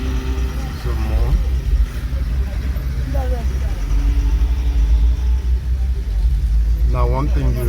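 Traffic jam with construction vehicles at a campground: a steady, close, low engine rumble runs throughout, with voices briefly heard over it.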